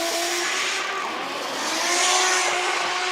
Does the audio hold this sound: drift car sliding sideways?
yes